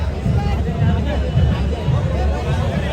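A large crowd gathered at a Narali Purnima festival fills the air with a steady, loud babble of many overlapping voices, close and continuous throughout.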